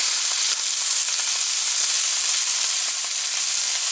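A ring-necked pheasant breast sears skin side down in a hot pan, giving a loud, steady, close sizzle and hiss that runs unbroken with no talk.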